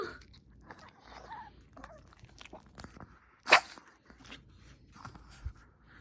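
A dog eating a freshly baked cookie, soft quiet chewing and crunching up close with one sharp bite partway through, faint background sounds around it.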